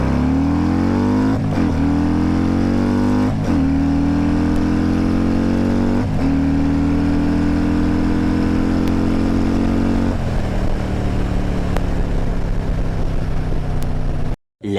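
A vehicle engine pulls hard away in first gear, rising steadily in pitch through repeated loud, close acceleration surges, with brief dips between pulls before cutting off at the end.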